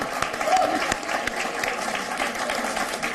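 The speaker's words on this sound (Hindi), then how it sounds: "एक बार ताली बजाइए वीरेंद्र विद्रोही के लिए।" Audience applause for poet Virendra Vidrohi at a poetry contest on the 2019 Lok Sabha elections, a moderate, continuous crowd clapping with scattered sharper claps standing out.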